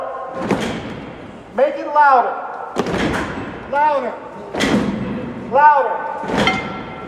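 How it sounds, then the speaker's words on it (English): Heavy rhythmic thuds of hundreds of protesters stamping their feet together at a city hall rally, alternating with a voice shouting encouragement; loud, booming hits with a roomy echo. "One more stamp of that foot."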